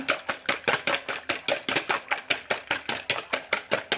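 Homemade aloe vera gel stirred briskly in a container, a steady run of about sixteen quick, evenly spaced scraping strokes, close and fairly loud, with no voices.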